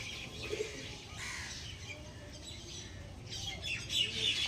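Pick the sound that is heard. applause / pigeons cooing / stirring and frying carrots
pigeons cooing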